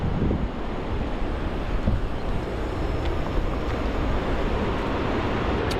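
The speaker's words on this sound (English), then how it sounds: "it's almost like a constant, multiple waves coming in at once" Pacific coast beach surf rolling in as a constant, overlapping wash of many breaking waves, loud and steady throughout with heavy wind buffeting the microphone.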